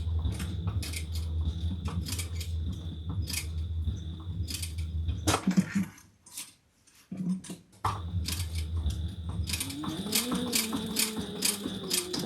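Sewing machine back stitching around a swivel clasp on a bag, quiet rapid mechanical clatter in runs, with a short pause midway before the stitching resumes, no talk.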